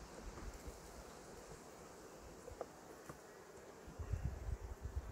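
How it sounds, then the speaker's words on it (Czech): Steady, cold wind blowing outdoors beside beehives, a soft broadband rush with occasional gusts buffeting the microphone, fairly faint. "Fouká vítr"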